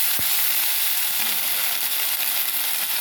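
Onions with ginger garlic paste frying in a pan, a steady, even sizzle heard up close and alone, with a soft stirring knock near the start.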